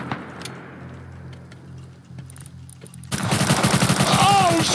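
Gunfire in the game Rust: a quiet stretch of faint ticks, then a sudden sustained burst of rapid automatic shots, loud and close, with a voice briefly audible near the end.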